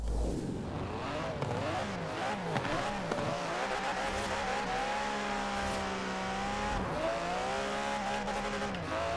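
A 2017 Aston Martin DB11 races in Forza Horizon 4, its engine revving loudly and shifting pitch as it accelerates and shifts gears. Tyres squeal now and then, and no one speaks.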